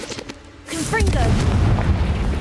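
A Confringo fire spell in Hogwarts Legacy bursts with a deep booming blast that swells and rumbles on, following a player's voice shouting the spell's name.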